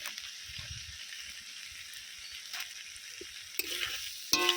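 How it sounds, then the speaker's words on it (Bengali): Spiced vegetables with chilli and turmeric powder are stirred and fried in a pan for a prawn and banana-flower curry, giving a steady quiet sizzle with scraping of a spoon and a few louder clatters near the end. "সব কিছু আবারও খুব ভালো করে নেড়ে নেব"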